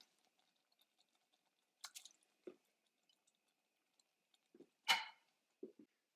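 Diced green chilies from an opened can drop into black bean soup in a few soft wet plops and squishes, quiet and spaced apart with silence between.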